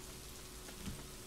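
Rain falls in the video game Boundless as a faint, steady patter and hiss that continues evenly throughout, with no voices.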